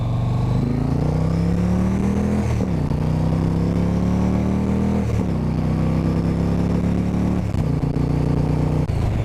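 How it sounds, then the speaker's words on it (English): A 1900cc motorcycle of about 100 horsepower accelerates hard through its gears, the engine note climbing in pitch and dropping back at each shift, loud and continuous without pause. "Alright, we'll give it a rip."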